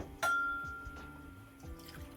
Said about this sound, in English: now I'm going to put 2 cups of water